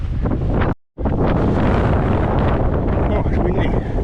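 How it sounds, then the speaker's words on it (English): Wind blowing hard on a hill, a loud, steady rushing buffet across the microphone with one brief cut of silence, no clear speech. "Oh, it's windy."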